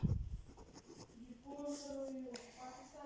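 Pen scratching on paper as an answer is written out during a fifth-grade social science lesson, with a soft, close scribbling burst at the start and a voice speaking over the later part.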